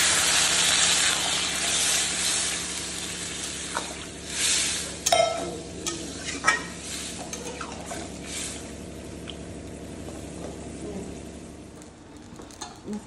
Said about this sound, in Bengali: পেঁয়াজ লঙ্কা দিয়ে দিচ্ছি কাঁচা, মিশিয়ে জল দিয়ে দেবো।